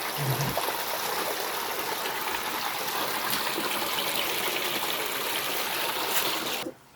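A small stream flowing among rocks and caves in Latvia, a steady close trickling rush throughout that cuts off abruptly at the end.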